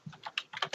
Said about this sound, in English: keyboard is loud